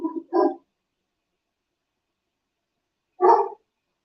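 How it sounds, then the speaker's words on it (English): A dog barks outdoors at night, giving two quick barks followed by a long silence and then one more sharp bark, clear and fairly close with no other sound between. "Dog's really barking."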